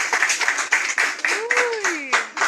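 An audience claps in quick, uneven bursts while a voice talks over the applause at close range.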